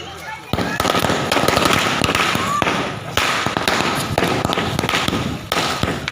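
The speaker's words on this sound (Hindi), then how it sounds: "Malthone bus stand over bridge के पास पटाखे फूटने लगे।" Repeated sharp firecracker bangs burst in quick irregular succession near a bus stand overbridge during a political celebration, loud and close, with a crowd's voices mixed in beneath the crackling.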